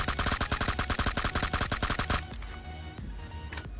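Rapid M4 rifle bursts in PUBG Mobile, a dense run of loud sharp shots for about two seconds, then the firing stops and quieter game ambience with faint distant clicks follows.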